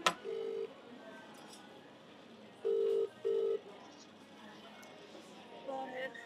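Telephone keypad tones sound as a call is dialed: a short burst of DTMF beeps, a pause, then two longer tones in quick succession, clear over a quiet room with faint background noise.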